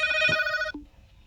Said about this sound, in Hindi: अभी हम यहाँ पे टेलीफोन बजने लगा था